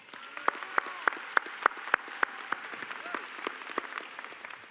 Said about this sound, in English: This deserves another round of applause.